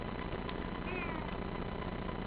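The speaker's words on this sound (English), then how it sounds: "Oh, there's a kitty cat." A cat gives one faint, brief meow over steady background hiss.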